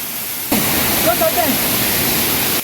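A waterfall in the Aravalli hills of India roars steadily, a dense broadband rush that starts abruptly and holds at a constant, loud level throughout.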